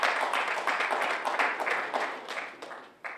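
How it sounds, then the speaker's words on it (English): A conference audience claps steadily for a few seconds, a dense patter of many hands that thins and fades toward the end with a last few scattered claps. "Clap it up for my brother Bam Mac right there"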